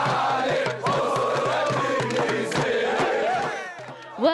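Large crowd of Tunisian fans celebrating outside the Ali Bin Hamad Al-Attiyah Arena after Tunisia advanced at a world championship, a dense, loud roar of shouting and cheering that carries on steadily with chanting voices throughout.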